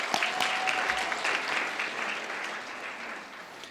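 An audience applauds steadily for a few seconds, a dense wash of clapping with no voices over it.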